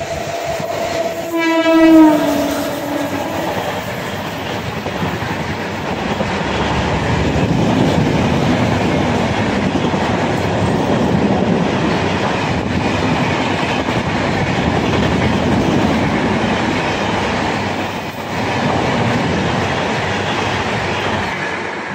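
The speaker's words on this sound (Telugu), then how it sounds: "ఒక ట్రైన్ అయితే వస్తుంది," A MEMU passenger train, number 66560, sounds a short loud horn blast and then rolls steadily past on the rails nearby, a long continuous rumble with clattering wheels that holds through to the end.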